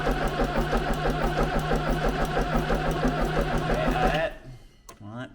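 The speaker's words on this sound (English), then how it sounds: "don't want to burn the starter motor out." A 2.5 VM diesel engine in a Range Rover Classic turns over on its starter motor, a loud steady rhythmic cranking that runs for about four seconds and then cuts off, leaving a brief voice at the end.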